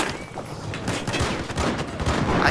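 Sustained gunfire in Battlefield 4, a dense, rattling stream of rapid shots from several weapons firing together, loud and continuous throughout.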